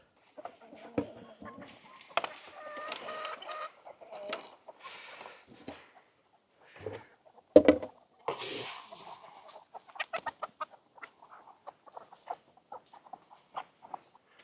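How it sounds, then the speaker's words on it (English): Hens clucking and murmuring softly at close range, intermittent soft calls with one louder squawk, mostly quiet between bursts. "You're a clucky one, aren't you?"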